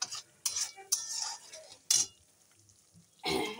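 Turmeric spice paste being sautéed in a pan for a chital fish dish, with a few sharp bursts of scraping and stirring separated by quieter gaps of low sizzle.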